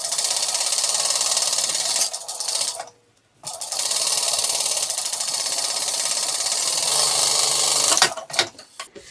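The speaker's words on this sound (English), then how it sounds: "I'm going to flip it over and sew it from the back and sew around my edge." A sewing machine stitches around the edge of a small fabric tote bag sized for a tablet, running loud and close in long steady bursts, stopping briefly once, then slowing into short stuttering stitches at the end.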